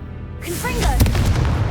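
Confringo fire spell blasting in Hogwarts Legacy: after a quiet moment, a sudden loud explosive burst erupts and rumbles on briefly, with a voice faintly mixed in.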